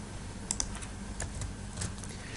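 Typing on a computer keyboard nearby, with quiet irregular key clicks and a few sharper taps coming in small bursts over a low background hum, and no voices.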